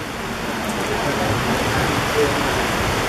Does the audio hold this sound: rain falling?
yes